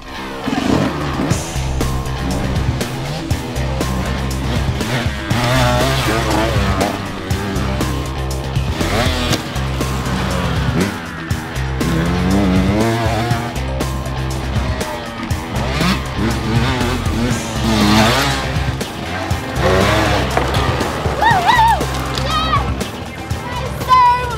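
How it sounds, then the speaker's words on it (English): A motocross bike runs a lap of a dirt training track, its engine revving up and down through the gears in a loud, continuous drone, with some voices in the background. "I want to go out and have a little lap myself, so I've got my bike, I've got my helmet on."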